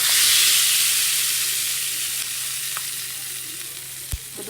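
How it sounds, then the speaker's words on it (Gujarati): Handvo batter is stirred together with a freshly fried tempering in a pan, a soft hissing sizzle that fades slowly, with one short knock near the end and no talk. "બધું પાછું મિક્સ કરી લઈશું વઘાર સાથે"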